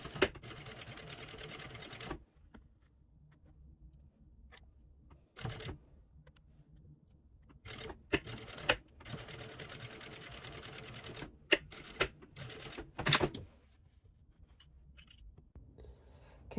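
A sewing machine topstitches a zippered cosmetic pouch in several short, quiet bursts of rapid stitching, separated by pauses and faint handling noises.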